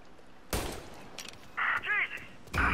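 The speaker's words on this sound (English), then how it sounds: "Gunshots heard, please respond." A few sharp gunshot bursts crack out in the video game Mafia: Definitive Edition, interspersed with electronic chirping tones, moderately loud against a quiet background.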